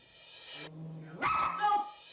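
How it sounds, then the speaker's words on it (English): A dog makes a low, sustained growl that breaks into a sharp bark and a brief yip, heard close and alone over roughly two seconds. "She is talking to you in her body language and with her growls."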